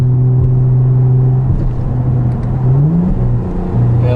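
A Camaro V6 with an MRT axle-back exhaust drones steadily while cruising fast, then its engine note dips and climbs through a manual shift with a quick throttle blip before settling back to a steady hum, with no voices.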